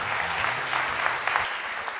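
Brief burst of audience applause at a general assembly broadcast, steady clapping at moderate volume with a faint low voice underneath.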